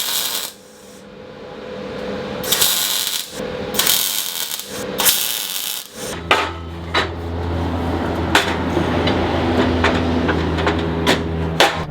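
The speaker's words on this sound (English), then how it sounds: "So I'm gonna do the MIG-TIG pulse tack weld all" A MIG-TIG pulse tack weld around tubing on a Porsche EZ30R engine swap, heard as bursts of harsh crackling buzz, then a steady electrical hum with scattered sharp pops and clicks, loud and close.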